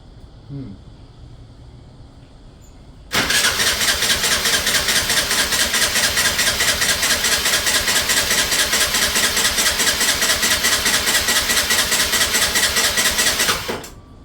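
A Gilera Runner VXR200 scooter engine, freshly fuelled after a carb clean and fuel line replacement, cranks and catches after a quiet lead-in, then runs with a loud, steady, pulsing idle for about ten seconds before cutting off.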